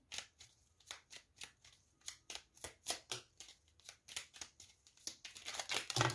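Oracle cards being shuffled by hand, a quick rhythmic series of close riffling bursts with brief gaps, about twenty in a row, growing slightly louder toward the end.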